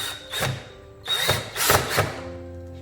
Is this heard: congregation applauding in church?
no